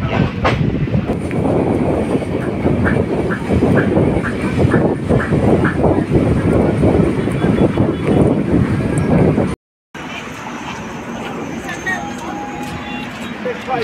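A train rumbles along the tracks into Dakshineswar station with rhythmic clickety-clack and wind noise, loud and close, then continues more quietly after a brief cut.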